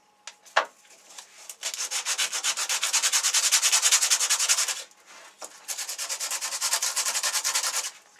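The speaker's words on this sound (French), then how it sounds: "Un petit coup de ponçage." Wood being sanded by hand in long, steady back-and-forth strokes, a close rhythmic rasping that pauses briefly midway and then resumes, with no other sound.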